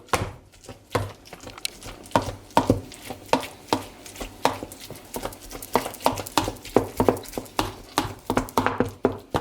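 Repeated heavy thuds of a cleaver chopping meat for Adana kebab on a board, a steady irregular rhythm of sharp knocks close up, with no talk.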